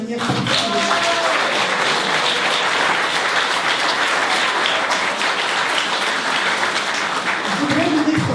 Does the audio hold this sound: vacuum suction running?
no